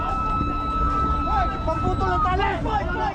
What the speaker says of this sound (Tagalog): habang umaalingaw ang malakas na sirena